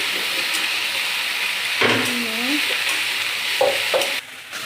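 Okra sizzling and crackling in a pan, with scraping stirs and a few clanks of a utensil; a brief whistling tone sounds in the background.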